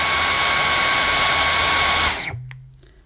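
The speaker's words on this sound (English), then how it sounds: "When you first switch on the Dyson, it will automatically go into medium mode." Dyson Gen5 cordless vacuum cleaner motor whining steadily at a loud, close level for about two seconds, then switching off with a quick falling tone and fading to near silence.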